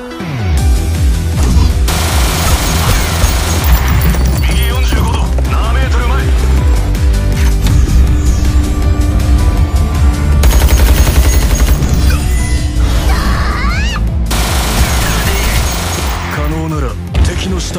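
Anime gunfight in which the whole squad fires on a suitcase: loud, continuous bursts of automatic gunfire with dense crackling shots, set against music and effects, with voices mixed in.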